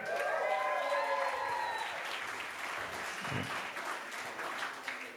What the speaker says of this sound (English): Give yourself a round of applause for supporting live comedy.